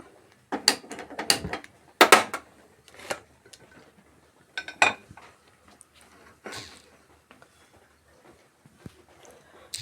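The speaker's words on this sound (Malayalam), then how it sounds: "നമുക്ക് ഒരു കുക്കറ് അടുപ്പത്ത് വയ്ക്കാം" A pressure cooker set onto a kitchen stove makes several sharp metallic clanks and rattles in scattered bursts, close and fairly loud, with quieter handling noises between them.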